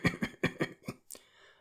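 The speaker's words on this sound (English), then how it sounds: "with an apologetic cough" A short series of about five quick coughs, close and moderately loud in a rapid rhythm, followed by a brief, fainter throat sound.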